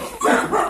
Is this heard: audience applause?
no